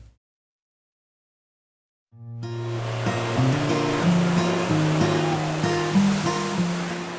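Waves of the Pacific Ocean along the San Diego County coast rush and hiss in a broad steady roar, starting after a few seconds of silence, with low tonal music underneath.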